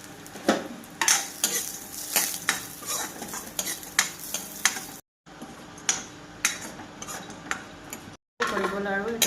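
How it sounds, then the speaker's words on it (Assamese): Dry fruits and sevai fry in a little ghee in a pan, with a soft sizzle under repeated scraping and clinking stirs from a metal spoon. "এয়া ড্ৰাই ফ্ৰুটছটো আৰু চেৱৈটোও ভাজি ল'ম এয়া ঘিউৰ লগতে"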